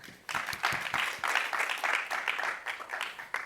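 Scattered audience clapping at a smart port startup competition final, fairly quiet and uneven, with a few individual claps standing out near the start.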